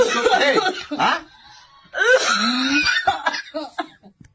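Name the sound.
cough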